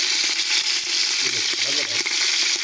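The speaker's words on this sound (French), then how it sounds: "Voilà, je la laisse dorer. Et je mets l'agneau." Lamb pieces browning in hot fat in a pot, a steady close crackling sizzle that runs the whole time with some low stirring or scraping knocks, as for a three-meat rougag stew.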